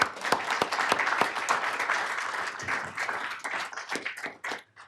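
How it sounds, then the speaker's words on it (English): An audience claps for a lead custodian being honored at a city council meeting, a dense steady round of applause that thins out and tapers off toward the end. "Give him a round of applause"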